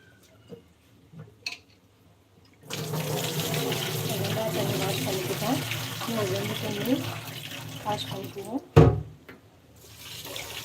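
Soaked grains for idli batter are washed under a running tap, with water gushing steadily into a vessel for several seconds and hands stirring and swishing through the grains; faint talking sounds around the washing, which ends in a sharp knock.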